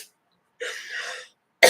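A couple of short, close coughs separated by a brief pause.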